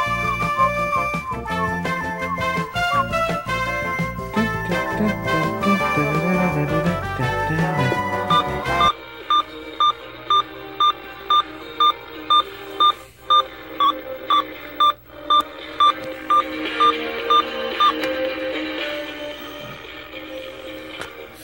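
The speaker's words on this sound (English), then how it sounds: "Alarm could be a little bit louder, but at least it's in the beat to the music" Music plays from a circa 1984 Sanyo RM-6100 clock radio, then a steady run of regular electronic alarm beeps pulses in time, fairly quiet beneath the ongoing music.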